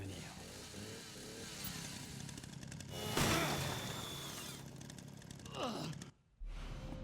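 A video game chainsaw engine drones and revs steadily for several seconds, swelling louder midway before briefly cutting out near the end, in Resident Evil Requiem.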